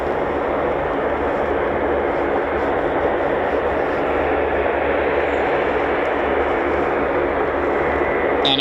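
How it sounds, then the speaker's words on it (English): A military aircraft fly-past at RAF Mildenhall makes a loud, sustained broadband jet roar that stays steady and close for the whole stretch without talk. "And a fly past for Peter Madlin, our newest"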